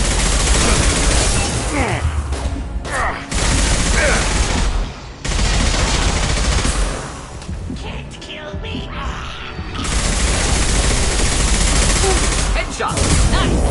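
Dense, loud sustained gunfire and explosions from the Mass Effect 2 video game, continuous volleys with brief lulls, with shouted voices mixed in.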